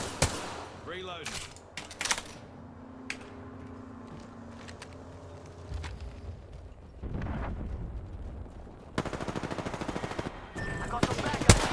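Automatic gunfire from a video game, heard in several loud bursts and sharp volleys, including a dense stretch near the end, with a voice talking between shots.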